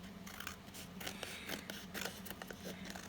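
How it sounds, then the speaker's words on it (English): Scissors snip repeatedly through paper in quick, quiet cuts, a soft crisp rhythm close by with no talking. "I'm going to come back with my scissors."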